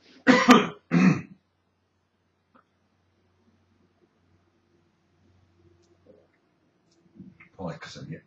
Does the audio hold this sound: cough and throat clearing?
yes